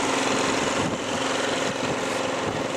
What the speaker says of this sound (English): There's a good old baby snow blower. Gonna take us out today.